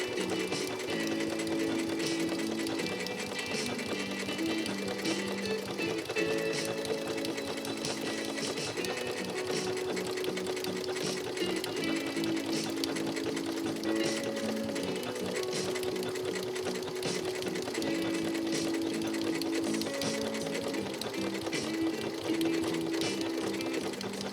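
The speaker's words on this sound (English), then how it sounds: "And it's a good thing we're not sewing too fast, or it would make it really, really difficult." A Janome Memory Craft 6700P sewing machine stitches a pattern at a steady, moderate pace, giving a continuous close mechanical whir and rhythmic needle clatter with no talk.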